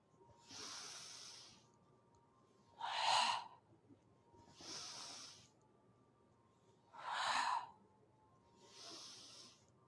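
Slow breaths in and out during an iaido body-movement exercise: five soft, airy breaths spaced evenly over ten seconds. Two of them are sharper and louder, and all are close and quiet with no talking.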